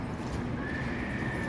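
Horses at a Jockey Club horse race, with neighing and hoof clip-clop folded into a steady, dense outdoor rumble, fairly loud, continuous and without talk.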